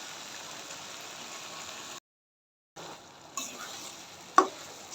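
Meat for biryani being sautéed in a pot, with a steady faint sizzle and occasional stirring scrapes, broken by a short silent gap and a sharp utensil clink near the end.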